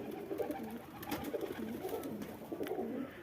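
Pigeons feeding near their keeper at a home pigeon loft, soft repeated cooing close by in a steady murmur with light rustling, no voices.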